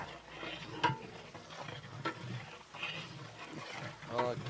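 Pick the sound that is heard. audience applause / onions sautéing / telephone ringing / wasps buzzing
onions sautéing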